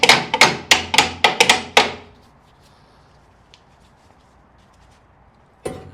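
A hammer taps out parts of a Volkswagen floor pan in a quick series of about seven sharp metallic strikes, followed by near silence and one last knock at the end.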